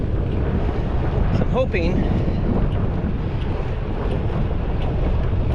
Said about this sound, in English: I've got a little bit of a headwind, side wind more, I guess, on this road.